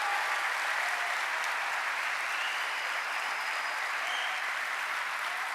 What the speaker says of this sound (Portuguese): Uma salva de palmas para esta organização.